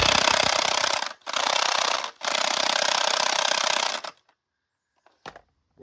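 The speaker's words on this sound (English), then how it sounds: "I started cutting these bolts off" A cutting tool slices off bolts on the axle of a 1983 C30 truck, giving loud harsh grinding bursts broken by two short pauses, then cutting out into near silence with a brief final scrape.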